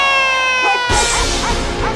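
Dogs bark and yip at a barking contest held at a fan-group dog event, the loud bursts of barking rising sharply midway and continuing in a busy, overlapping clamor.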